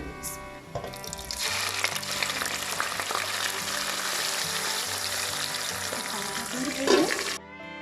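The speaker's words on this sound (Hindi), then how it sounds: "अदरक, लहसुन और टमाटर, हरी मिर्ची इनको ऑयल में डाल के मैंने भून लिया।" Loud, steady sizzling of a ginger, garlic, tomato and green chilli paste frying in hot oil, continuous hissing and crackling for several seconds before cutting off abruptly.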